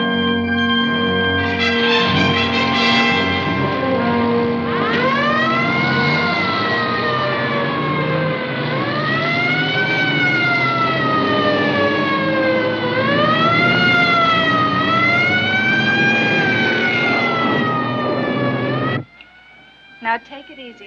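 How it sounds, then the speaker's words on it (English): A steady, continuous siren wails loudly for about nineteen seconds, its pitch gently rising and falling, rather than the short blasts of a crash siren, then cuts off abruptly. "That's not the crash siren. Listen, it's constant."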